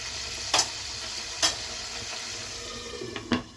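Tomato paste sizzles in hot oil in a pan for a mixed vegetable curry, a steady frying hiss broken by a few sharp scrapes and clinks of a stirring spoon.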